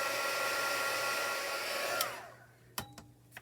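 A hair dryer blows steadily on a handmade paper card to dry its ink, a close, loud whooshing hum that winds down and stops, followed by a few small clicks and taps.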